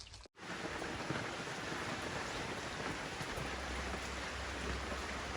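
Steady rain falls on a garden, a dense, even hiss that stays constant throughout after a brief dropout near the start, with no voices.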